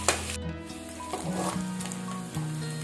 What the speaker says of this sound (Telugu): ఇలా కొంచెం సేపు ఫ్రై చేసుకోవాలి